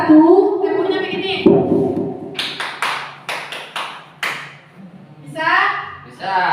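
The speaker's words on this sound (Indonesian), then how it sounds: "Kalau semangat satu, tepuknya begini." A rhythmic hand-clap demonstration, with a few sharp separate claps and taps between stretches of speaking voice in a small room.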